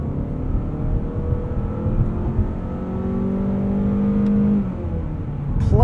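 A 2019 Mazda3 hatchback with a 2.5-liter Skyactiv engine and automatic gearbox accelerates hard uphill from standstill, the engine tone climbing steadily through the rev range before an upshift near the end, heard from inside the cabin.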